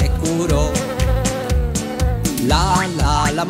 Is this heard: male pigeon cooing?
no